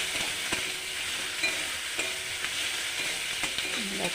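Garlic, cumin and ginger paste cooks in hot oil with a soft, steady sizzle, while quick stirring scrapes and clicks against the pan come through at a gentle level.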